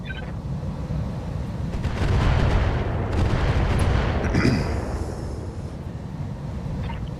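Mech and vehicle weapons fire in the RogueTech mod of BattleTech as a dense rumbling barrage of booms and blasts. The barrage swells loudest in the middle, then eases into lingering rumble with a few sharper hits.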